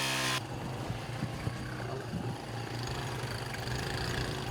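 A repaired motorcycle engine runs at idle on a muddy track, a steady low rumbling putter with a faint mechanical rattle, moderately loud and unbroken throughout, with no talking.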